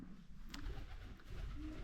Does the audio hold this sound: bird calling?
yes